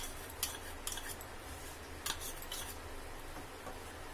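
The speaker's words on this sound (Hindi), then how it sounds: "ये घी को भी हमें ये चीनी के साथ फेंटना है, ये जो पाउडर शुगर है इसके साथ हमें मिलाना है" Ghee being whisked with powdered sugar in a bowl for stovetop wheat-flour biscuits, a steady scraping stir with sharp clinks of utensil against the bowl rim.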